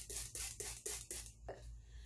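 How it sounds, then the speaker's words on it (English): A handheld water spray bottle mists hair during a wash-and-go curl routine, giving five quick, crisp hissing spritzes in a steady rhythm and then a sixth, softer one, close up with no talking. "I have my water bottle here that I'm gonna spray"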